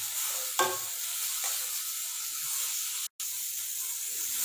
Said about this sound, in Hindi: तो 1 से 2 मिनट के लिए इसको अच्छी तरह हम सौते करेंगे।